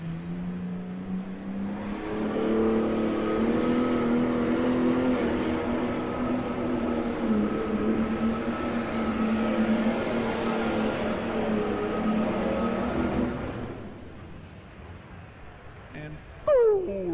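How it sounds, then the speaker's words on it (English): Pulling tractor engine at a farm machinery show tractor pull, a loud, sustained roar that builds after a couple of seconds, holds steady for about eleven seconds, then cuts off and leaves quieter background. "coming your way, the tractor known as Nasty Stuff"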